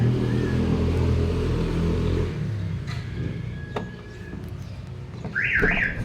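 A low engine rumble fades, then an aftermarket car alarm, triggered by forcing a door open, begins sounding with a warbling, rising-and-falling electronic tone near the end.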